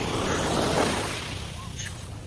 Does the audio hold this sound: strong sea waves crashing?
yes